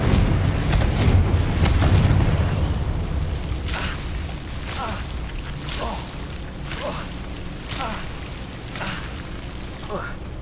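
Confringo fire-spell blasts in the video game Hogwarts Legacy, a rumbling burst at the start followed by a series of sharp whooshing impacts at roughly one-second intervals.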